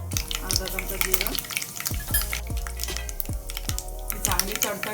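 Mustard seeds and cumin spluttering in hot oil for tempering, a string of sharp irregular pops and crackles over a soft sizzle, close and fairly busy.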